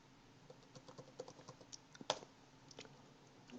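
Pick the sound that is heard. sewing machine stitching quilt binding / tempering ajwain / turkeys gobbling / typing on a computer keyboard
typing on a computer keyboard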